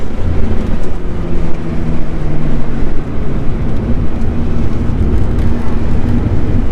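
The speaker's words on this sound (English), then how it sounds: "It's just a Mustang I drove here from Ohio." A 21-year-old Ford Mustang on track at Laguna Seca gives a steady, loud engine drone with shifting tonal whine, close and continuous throughout with no talk over it.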